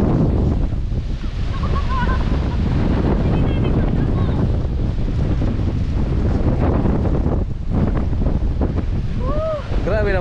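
Strong wind buffeting the microphone in an open rice field, a steady loud roaring rush throughout with gusting variation and faint voices in the background.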